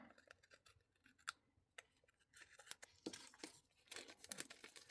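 Scissors cut paper for a Dutch door journal, with quiet close snips and crisp slicing runs in irregular bursts, plus light paper rustling between cuts.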